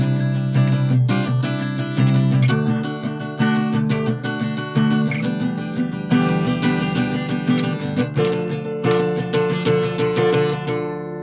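Guitar plays the bridge of a song, bright jangly chords strummed in a steady, busy rhythm, close and loud, with no voice over it until it rings out at the end.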